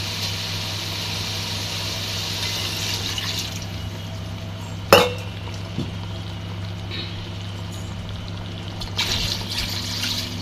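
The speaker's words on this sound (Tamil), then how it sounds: "தேவையான அளவு தண்ணி ஊற்றிடலாம்." Water is poured into a pot of cooked chicken biryani masala to boil the rice, a steady close splashing stream under a low background hum, with one sharp clink partway through.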